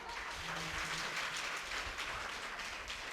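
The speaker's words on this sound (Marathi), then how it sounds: "एकदा जोरदार टाळ्या तुम्हीच वाजवा तुमच्यासाठी जोरदार टाळ्या" A crowd at a comic devotional talk bursts into continuous clapping, a thick, even round of applause from many hands lasting the whole stretch, fairly close with no voices over it.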